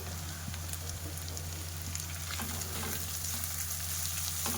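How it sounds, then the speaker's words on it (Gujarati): Chopped ivy gourd (tindora) sizzling in a frying pan, a continuous hiss of hot oil with small crackles and light clinks near the end, nobody talking. "હવે આપણે તેની અંદર સમારેલા ટિંડોળા ઉમેરી દઈશું"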